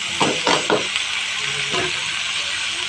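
Chopped banana stem dropped into hot oil with fried onion and turmeric in a home kitchen, a steady sizzle under a few soft clattering knocks of pieces and a spoon against the pan.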